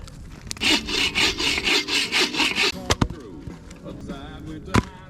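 A hand saw cuts wood at a winter campsite: about ten quick, even back-and-forth strokes, close and loud, then a few sharp knocks and light rustling.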